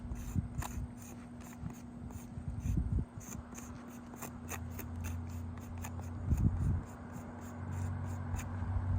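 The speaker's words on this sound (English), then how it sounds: "I'm going to write this down." Pen scratching on paper as notes are written by hand during a roofing shingle repair inspection, a quiet run of short irregular strokes and scrapes with a low background hum, no talking.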